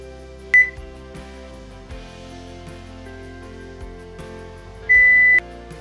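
Two short electronic beeps from a kitchen timer, one near the start and a slightly longer one near the end, over a quiet background hum.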